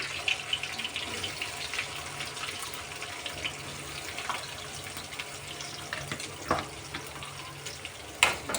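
Onions, green chillies and curry leaves fry in oil for a Telugu-style ivy gourd fry, a steady crackling sizzle with occasional scrapes and clatter from stirring, up close and without speech.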